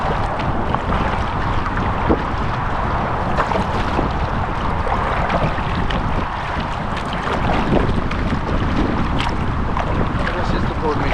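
Rescue boat motor droning over choppy waves near an inflatable fishing kayak, a constant loud rumble mixed with wind buffeting the microphone and splashing water, with occasional voices underneath.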